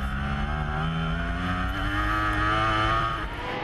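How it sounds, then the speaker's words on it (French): Superbikes, a Kawasaki and Honda CBR 1000 RR among them, race at Wakefield Park Raceway in the Australian Superbike championship, engines screaming loudly and continuously with shifting revs for a few seconds as the machines pass close together. "Une Kawa, une Honda. 2 Honda même, parce que Glenn Scott, le numéro 68, est au guidon d'une CBR 1000 RR"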